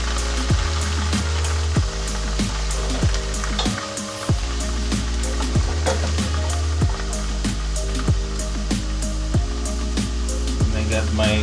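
Thai chicken curry cooks in a pan over a loud, steady sizzling hiss, joined by a low continuous hum and occasional light clicks and taps.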